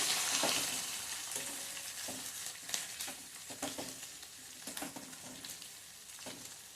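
Ingredients for a hotel-style white or red chutney are sautéed in a pan, a quiet sizzle broken by repeated scraping stirs of a spoon at irregular intervals, with no talking.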